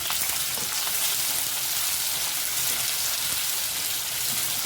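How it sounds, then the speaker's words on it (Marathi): Long-sliced onion frying in two spoons of oil in a kadhai, a constant dense sizzle with fine crackling that stays loud and even throughout. "कांदा भाजून घ्यायचा आहे आपल्याला गुलाबी"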